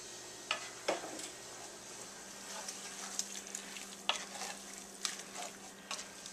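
Meat braises in a pan with about half a beer poured in, a soft, low hiss of simmering liquid broken by occasional clinks and scrapes of a utensil, fairly quiet and close.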